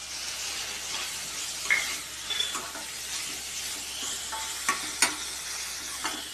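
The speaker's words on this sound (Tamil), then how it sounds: "இஞ்சி பூண்டு பேஸ்ட் போட்டுக்கறேன் தக்காளி போட்டுக்கறேன்" Tomato and ginger garlic paste sauté in a hot pan with a steady, close sizzle and hiss. A few sharp clinks of stirring against the pan punctuate it, with no talking.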